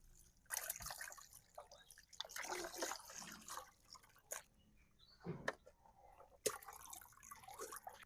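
Salted dry fish, sandy and heavily salted, being rinsed two or three times in water: irregular splashes, drips and sloshing bursts with short quiet gaps, close and fairly faint, no talking.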